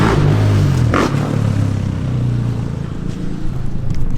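Several motorcycles arrive in a car park, a loud continuous rumble of engines with a rising rev near the start, fairly close and steady throughout with no speech.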